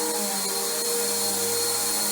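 A Bissell Powerforce bagged upright vacuum cleaner running on carpet, a steady close motor whine with a constant airy roar and no talking.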